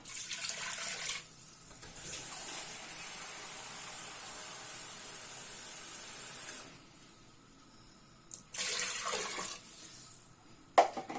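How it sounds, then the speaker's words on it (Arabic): Water pours into a pot of fried chicken in a Moroccan home kitchen, a steady hissing stream lasting several seconds, then a brief second pour and a small clink, with no talking. "من بعد ما تقلى ليا هاد الدجاج هذا غادي نضيف ليه القياس ديال الماء او المرق"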